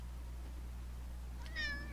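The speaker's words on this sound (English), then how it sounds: "Stupid cat." Over a steady low hum, a cat lets out one short, fairly faint meow near the end.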